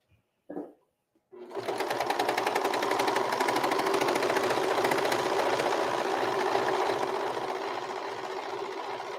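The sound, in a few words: serger sewing machine stitching apron fabric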